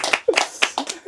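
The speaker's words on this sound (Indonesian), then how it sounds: "Tepuk tangan untuk Kampung Trim." Hands clapping for Kampung Trem during an interview, a handful of sharp, distinct claps spaced irregularly, close and fairly loud, with a voice briefly audible between them.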